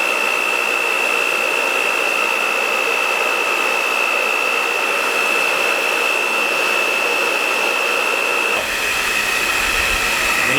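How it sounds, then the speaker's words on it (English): A hair dryer blows steadily with a strong whining hum and broadband rush while heating wax into Fjallraven Vidda Pro trousers, continuous throughout, shifting slightly in tone near the end. "I'm going to start with the hair dryer."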